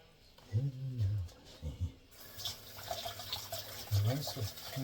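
Tap water running into a sink while mint is rinsed, a steady hissing stream that starts partway through and continues under intermittent talking.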